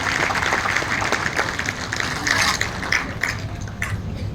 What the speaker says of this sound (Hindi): तालियां जरा जोरदार हो जाएं।